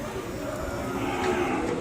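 An Ongole calf at a cattle market moos in one drawn-out low call, close and fairly loud against faint outdoor background.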